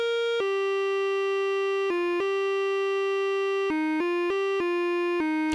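A clean synthesized melody line in an Undertale-style chiptune track, a string of sustained pure-toned notes with sharp onsets, some long and some quick, heard alone and close.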